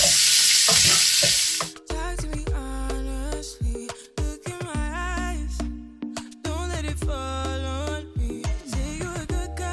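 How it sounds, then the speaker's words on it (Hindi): Onion and garlic frying in oil, a loud steady sizzle at first that gives way to clattering stirring against the pan, with a tonal ringing hum running through the rest. "फिर हमें सेम ऑयल में फ्राई करना है अनियन एंड गार्लिक"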